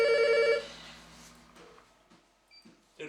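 A telephone bell rings once, loud and close, in a short burst that stops after about half a second, leaving faint room noise and small clicks.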